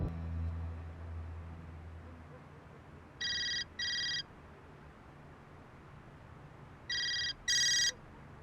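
A phone ringtone sounds as two pairs of bright electronic rings, each a quick double trill several seconds apart, over a quiet room with a low rumble fading at the start.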